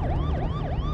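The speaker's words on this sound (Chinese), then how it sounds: "把警笛关掉。" A police siren on an official government car wails in rapid, repeating up-and-down sweeps, loud and close over a low engine hum.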